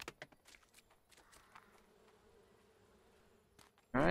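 Insects buzz around a hive in the video game Barn Finders, faint intermittent drones with scattered ticks and taps. A loud burst of another sound cuts in at the very end.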